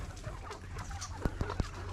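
Soft clucking from chickens in a barnyard, with a low steady hum behind and a few sharp short clicks near the end.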